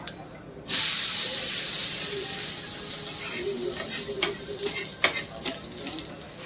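Handva sizzles loudly on a hot nonstick griddle, a steady frying hiss that starts after a brief quiet moment, with a few soft clinks of a utensil.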